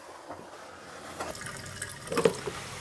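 Gasoline poured into the fuel tank of an Evo project car during fuel-leak repair work, a soft liquid trickle and splash rising over about three seconds, close by, with no talking.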